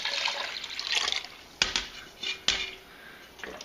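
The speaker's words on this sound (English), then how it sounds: "we're going to slowly pour it into the bucket over the brisket" Brine is poured slowly into a bucket over brisket for corned beef, a soft trickling splash broken by a few sharp knocks and clinks of the container.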